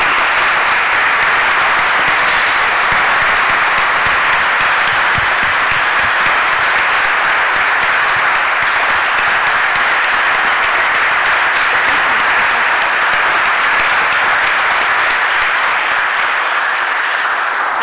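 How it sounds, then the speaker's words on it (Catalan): A lecture audience applauds for the speaker in a long, steady wave of clapping that fills the hall, dense and loud throughout with no talk over it. "Ara vull que escoltes l'aplaudiment que t'han fet abans"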